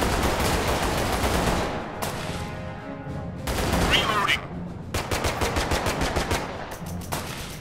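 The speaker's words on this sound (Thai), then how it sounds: "นี่ผมมีป้อมปืนดักรออยู่" A gun turret in the video game The Last Haven fires at enemies in long rapid bursts of gunfire, loud and dense, broken by brief pauses and faint game sounds.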